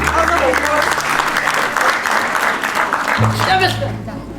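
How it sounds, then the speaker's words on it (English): A round of applause for the best man at a Chuukese wedding on Guam: dense clapping from a room of guests, loud and continuous, with voices mixed in and a tone entering near the end. "one more round of applause for the best man"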